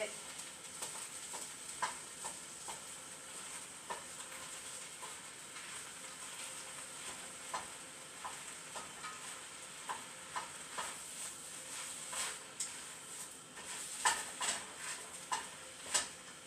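Food frying in a pan during lasagna meal prep, a soft steady sizzle with intermittent scraping stir clicks, faint and close, no talking.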